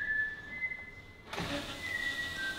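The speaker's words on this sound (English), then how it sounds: "As you hear there, there's the fuel pumps kicking in." Electric fuel pumps priming on a Land Rover Defender: a thin steady whine, then a fuller buzzing hum that switches on about halfway through and keeps running at a fairly low level, with no talking.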